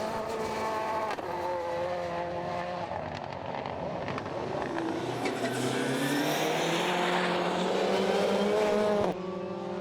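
Rallycross race cars run at Lydden Hill, engines roaring loud and steady as a car pulls out of a hairpin, pitch rising and falling with gear changes while a commentator talks over them.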